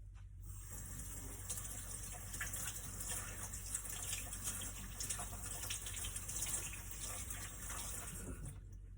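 Steady running tap water pours over cucumbers being washed in a kitchen sink, a continuous close hiss and splash with no talking.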